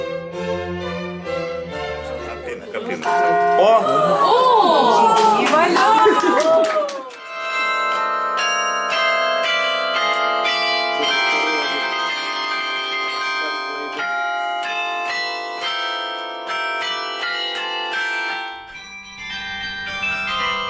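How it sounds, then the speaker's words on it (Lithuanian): A carillon of bells hung 42 metres up in the central post office tower in Klaipėda rings out a loud melody, clear bright tones overlapping and sustained, with a short pause near the end before further chimes resume. "42 metrų aukštyje kybo varpai, sukonstruotas tikras kariliono instrumentas,"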